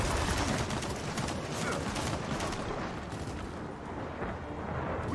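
Turret fire in Gears of War 4 keeps up a dense, continuous stream of rapid gunfire and blasts throughout, loud and chaotic, with no clear pause in the barrage.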